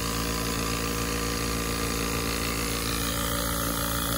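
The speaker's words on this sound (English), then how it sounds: "let me turn the pump on." An HVAC vacuum pump hums steadily and continuously beside a Lennox XC20 variable-speed unit, a constant motor drone with a low buzz and no pauses or speech.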